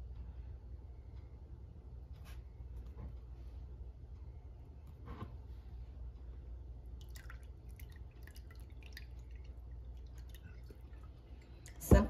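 Homemade apple vinegar drips through cheesecloth while straining, with soft, sparse drips over a low steady hum, quiet and close, and a brief louder knock at the end.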